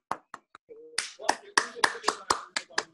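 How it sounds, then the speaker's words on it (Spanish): A few separate claps ring out over a Zoom class call, sparse and uneven at first, then settling into a quicker run of sharp, close claps. A voice cuts in briefly among them. "un aplauso a esa joven"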